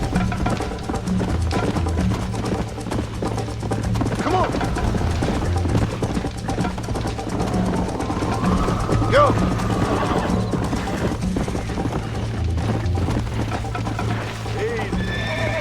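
Horse hooves and whinnies in the video game Red Dead Redemption: rhythmic clip-clop under a loud horse neigh midway, with game background sound and someone talking over it.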